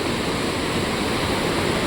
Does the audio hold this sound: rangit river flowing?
yes